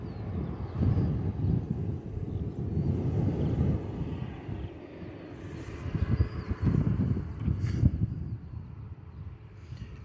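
A Ryanair airliner takes off from runway 27 at Bristol Airport with a low, rumbling roar. The sound heard from a distance rises and falls under wind buffeting on the microphone.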